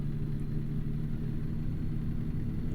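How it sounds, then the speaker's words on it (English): A truck engine in American Truck Simulator rumbles in a loud, continuous low drone with a faint pulsing texture, alone and close throughout. "It's a loud engine noise."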